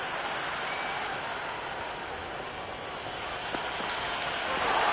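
Stadium crowd in the Cricket 26 video game during an Australia vs England Ashes Test, a steady broad roar of cheering and murmur that swells slightly toward the end, with faint bits of commentary voice.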